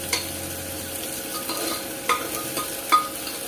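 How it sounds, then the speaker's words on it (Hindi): Onions frying in a pan as a spoon stirs them for a quick raw-potato curry, a soft continuous sizzle broken by a few sharp utensil scrapes and taps, with no voices. "तो इसी तरह से चला चला के हम इसे थोड़ा सा और गला लेंगे।"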